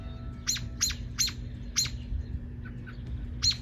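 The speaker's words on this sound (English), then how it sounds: "And if you can hear, the mama is squawking behind me" Mother robin squawking near her nest in an early-summer garden: a string of sharp, repeated calls in uneven rhythm, fairly close and clear over a low steady background hum.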